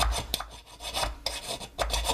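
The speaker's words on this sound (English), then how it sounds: "I really like to finish it with the files." Hand files rasping across a vape box mod enclosure, quick back-and-forth scraping strokes repeating in an uneven rhythm, close and clear with no voices.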